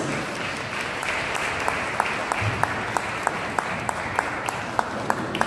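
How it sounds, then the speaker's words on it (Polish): An audience applauds at a folk carol and pastoral song festival after a rural women's folk group wins first place, a moderate wash of clapping with sharper individual claps standing out at regular intervals. "Wielkie brawa!"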